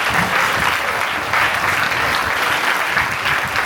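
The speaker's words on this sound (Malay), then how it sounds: "Tepuk tangan untuk ibu bunda kita" Audience at an official opening ceremony gives a loud, dense round of applause for the host, continuous clapping throughout with no talk over it.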